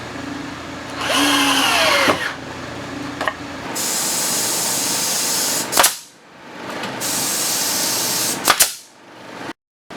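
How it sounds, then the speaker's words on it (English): A power drill drives screws into the spalted oak frame of a dining table, with long steady whirring runs that stop and restart several times, loud and close with no talking. "Strategically place the screws between the board joints where I need to hold it the straightest."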